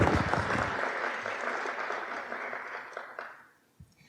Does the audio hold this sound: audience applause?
yes